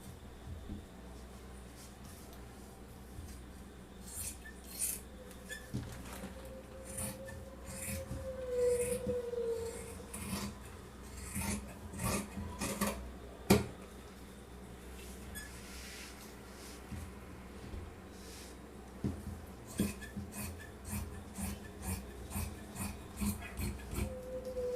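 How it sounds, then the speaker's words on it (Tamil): Scissors cut through blouse fabric for straight-cut tailoring, giving soft, repeated rasping snips and rubbing of cloth, close and fairly quiet, with scattered handling noises between cuts. "பட் உங்களுக்கு வந்து ஃபர்ஸ்ட் பேக் பார்ட் நான் கட் பண்ணி காமிக்கிறேன்"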